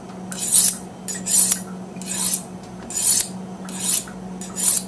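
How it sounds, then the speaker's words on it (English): A knife blade drawn repeatedly along a sharpening steel on alternating sides gives six steady, bright rasping strokes in an even rhythm, close and clear over a low constant hum. "I want you to listen for the sound of the steel."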